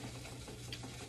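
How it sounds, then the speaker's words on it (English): Chicken thigh sizzling inside a toaster oven, a faint, steady crackling hiss with a low hum underneath, continuous and alone with no talk. "right now I got me a chicken thigh in the toaster oven, for those of you that are wondering what that sound is"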